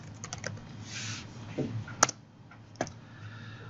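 Light keystrokes on a computer keyboard, a short uneven burst of taps with a few sharper clicks, quiet and close against a faint room hum.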